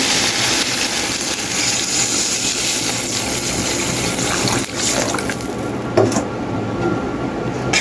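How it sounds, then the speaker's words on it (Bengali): Water is poured into a pan of sautéed vegetables for a pangas fish, potato and tomato curry, a continuous close splashing and gurgling that settles into a sizzle near the end; no talking. "এখন আমি পানিটা দিয়ে দিচ্ছি।"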